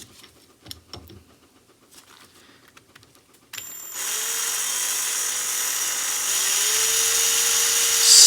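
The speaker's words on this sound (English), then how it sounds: "slowly drill out the plug" After a few light clinks and handling noises, a power drill starts up and runs steadily, a high whirring whine that grows slightly louder, as it slowly drills out a plug in a Yamaha XJ650 motorcycle carburetor.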